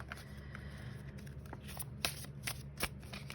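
Tarot cards being shuffled by hand, a soft continuous riffling with sharper snaps of the deck near the end, close and fairly quiet, with no talking.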